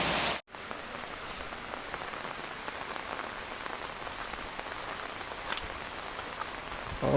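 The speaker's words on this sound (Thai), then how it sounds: "ฝนตกหนักเอ้ยฝนตกหนักเอ้ย" Heavy rain pours down steadily in Vang Vieng, Laos, a dense hiss of drops drumming on surfaces, with a brief gap near the start before the downpour resumes.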